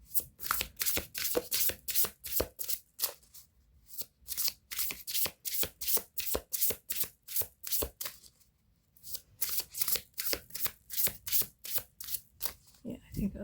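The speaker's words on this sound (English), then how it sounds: "Maybe I should just shuffle." Playing cards riffle-shuffled by hand, repeated sharp bursts of fluttering card flicks in quick rhythmic bouts, close and loud, with a brief pause midway.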